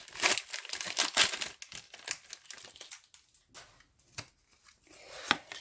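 Pokémon card booster pack wrappers, one a Garchomp and Giratina pack, crinkling and tearing open in a series of close, sharp rustling bursts that fade into quieter handling.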